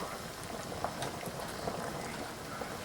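Shrimp cooking in butter in a pan give off a faint, steady bubbling and soft crackle, quiet and continuous with no voices.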